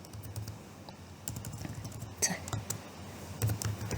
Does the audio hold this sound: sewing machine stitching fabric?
no